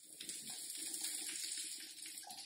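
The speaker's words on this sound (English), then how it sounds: "The waterfall is running, and then you create your own waterfall into that waterfall" A waterfall urinal at the Madonna Inn runs with water, a steady close rushing and splashing stream that holds an even level throughout with no voices.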